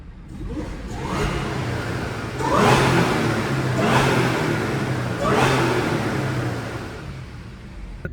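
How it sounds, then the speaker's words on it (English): A car engine revved in a garage, with three distinct rising bursts that swell and fall back over an idling base, echoing loudly in the enclosed space. "Let's get a few garage revs on the way out."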